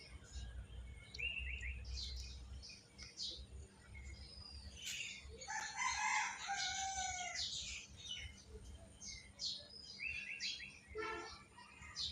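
Soft clucks and chirps from a chicken that cannot walk properly and moves in circles come in scattered bursts over low background noise.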